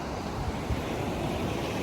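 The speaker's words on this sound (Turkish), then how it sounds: "şimdi böyle büyük büyük dalgalar var" Big, dirty sea waves break on a Mediterranean shore at Silifke in rainy weather, a steady rushing wash of surf mixed with wind noise on the microphone.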